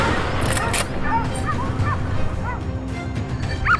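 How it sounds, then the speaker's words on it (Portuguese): Dogs on a wild boar hunt bark and yip excitedly in quick bursts, fairly loud and close over a noisy outdoor background. "os cães voltaram a latir freneticamente"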